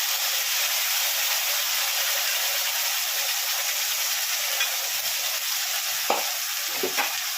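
Mixer-ground ginger-garlic spice paste hits frying onions in a pan for a jackfruit and prawn curry, a strong, steady hiss of sizzling oil with a few soft stirring knocks near the end.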